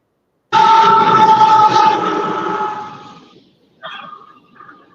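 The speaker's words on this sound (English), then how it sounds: "Norfolk Southern looks like another grain train" A Norfolk Southern grain freight train blows its horn in one long, loud, close blast that fades away, followed by a shorter, fainter sound.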